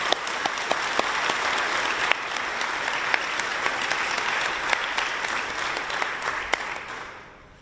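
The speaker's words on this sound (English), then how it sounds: "how about another big round of applause for Secretary Dalton?" An audience applauds at a Navy exhibit opening, a dense, sustained wave of clapping with scattered sharper claps that fades away at the end.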